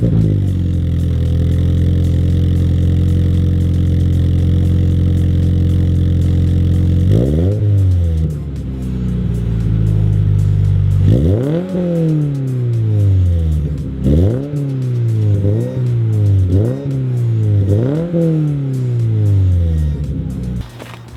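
A 2022 Subaru BRZ engine with the stock exhaust manifold idles in a low, steady rumble, then is revved repeatedly in sharp blips, each rising and falling back, loud and close.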